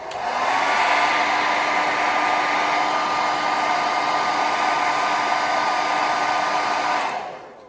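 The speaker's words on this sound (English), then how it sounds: "take my blow dryer and dry it really good" A hair dryer whirs loudly and steadily at close range for several seconds, then switches off, its airy roar and motor whine unbroken until the end.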